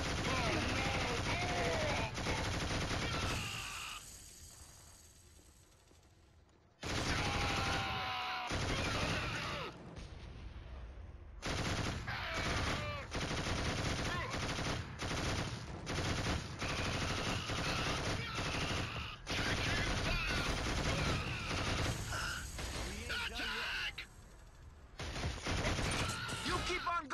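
Machine gun fire in the PS2 video game Killzone, loud sustained bursts of automatic gunfire with explosions, dropping out briefly twice before resuming at full intensity.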